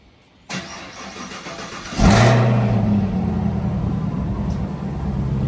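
A Chevrolet Camaro ZL1 with stock exhaust cranks briefly, then fires with a loud, sharp bark that settles into a deep, rumbling idle, heard close and alone.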